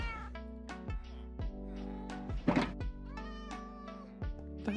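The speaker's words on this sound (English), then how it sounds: "why am I hearing so many cats?" Several cats meow repeatedly in Minecraft, with overlapping calls of different pitches one after another, close and clear over a low steady hum.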